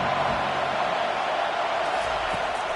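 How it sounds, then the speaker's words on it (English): A dense, steady stadium crowd roar in a football video game fills the whole stretch at an even, loud level on a key third-down defensive play, with no distinct voices standing out. "Decibels rising as the crowd gets behind this defense on 3rd down."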